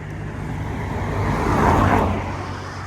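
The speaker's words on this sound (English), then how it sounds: "There's a car coming now" A car approaches along a quiet lane used as a rat run, its engine and tire noise rising gradually to a moderate peak and then easing slightly, with no voices.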